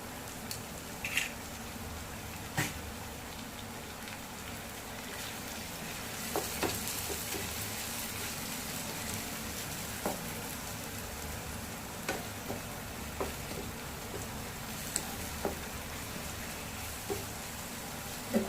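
A broken egg sizzles on sautéed masala in a pan for egg podimas, a soft, steady frying hiss with occasional pops and crackles, no one speaking.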